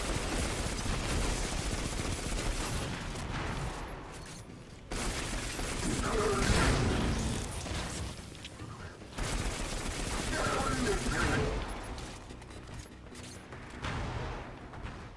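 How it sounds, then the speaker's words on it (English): Sustained, dense gunfire and combat noise in Destiny 2 with a pistol in hand, loud continuous crackle and blasts with brief lulls, a voice occasionally audible underneath. "This pistol's got brutal recoil too"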